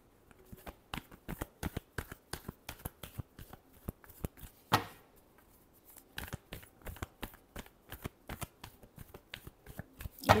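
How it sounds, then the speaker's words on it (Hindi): A tarot deck is shuffled by hand in quick bursts of crisp riffling card flicks, close and steady, with a short pause in the middle before the rapid flutter resumes. "Last shuffle."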